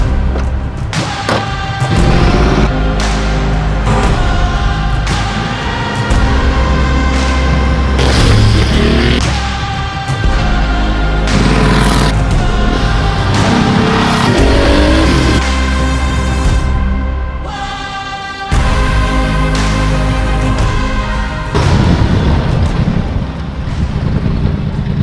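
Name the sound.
Porsche 959 Paris Dakar driving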